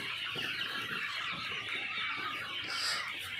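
A large flock of broiler chickens on sand litter in a poultry farm shed cluck and chatter continuously, a dense, steady murmur at moderate distance.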